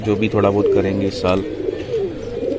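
Someone talks while nearby pigeons coo in low, throaty bursts, the cooing partly overlapping his voice.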